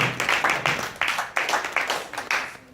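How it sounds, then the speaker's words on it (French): A church congregation claps for the Lord at a Sunday service, about a dozen sharp, even claps in a steady rhythm that fill the room, with a voice briefly heard. "Let's clap for the Lord."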